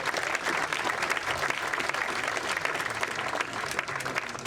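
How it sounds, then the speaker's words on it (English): A lecture-series audience gives a big round of applause, dense sustained clapping from a full crowd, loud and even throughout. "Please give them a big round of applause for their support."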